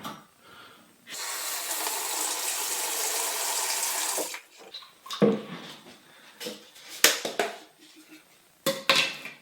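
Water pours in a steady, close rush for about three seconds into self-levelling cement mix, followed by scattered clatters and scraping knocks.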